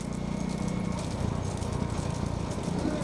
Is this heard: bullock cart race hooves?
yes